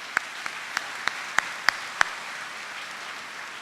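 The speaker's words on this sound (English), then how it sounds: "please join me in giving Keith a round of applause." A university commencement audience claps for a speaker, about seven separate claps spaced evenly over a couple of seconds and then fading into quiet room tone.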